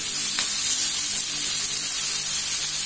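Water spinach stir-fries in a hot pan for tumis kangkung, giving a loud, steady sizzle and hiss with a brief stirring scrape near the start.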